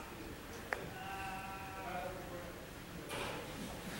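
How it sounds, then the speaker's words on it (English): A single drawn-out sheep bleat rings out faintly, apparently heard from inside a lecture room, preceded by a sharp click against a steady room hum. "I hear a sheep or something?"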